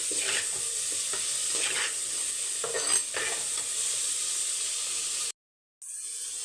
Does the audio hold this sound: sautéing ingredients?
yes